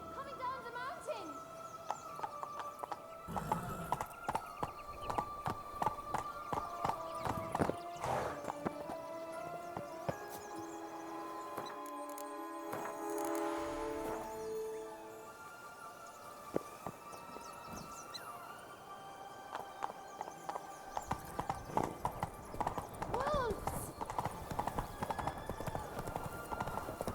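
Roach, a horse in The Witcher 3: Blood and Wine, gallops down a mountain, steady hoof clip-clop running through most of the stretch under game music, with a brief lull midway.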